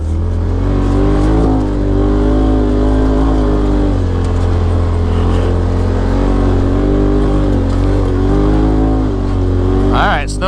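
A Polaris RZR XP Turbo side-by-side drives a snowy forest track, its engine a loud, steady close-up drone with surging revs throughout.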